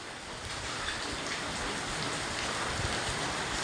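Steady rain pours onto a flooded road along Bilpar Road in Silchar, a dense, even hiss of drops hitting water that continues without a break throughout, with no voices.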